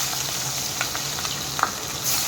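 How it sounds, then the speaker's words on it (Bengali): Small tengra fish frying in hot oil in a wok, a steady close sizzle with a few brief crackles and pops, with no voices. "ছোটো ট্যাংরা মাছ তাই আমি সবগুলোই একসাথে দিয়ে দিচ্ছি। মাছগুলো ভালো করে ভেজে নেব।"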